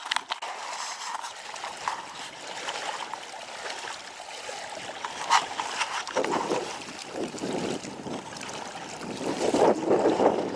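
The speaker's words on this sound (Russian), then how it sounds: "Тащим лодку." A boat is dragged over the ground along a riverbank in Yakutia, a steady scraping and rumbling that grows rougher and louder toward the end, with no talk.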